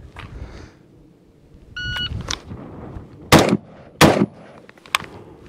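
A rifle fires a full magazine in separate sharp, loud shots spaced a second or so apart, with a short electronic beep and some background noise in between.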